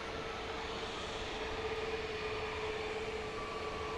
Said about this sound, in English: Another JSX Embraer 145 touching down.